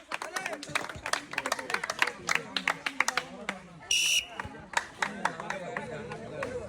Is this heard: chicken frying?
no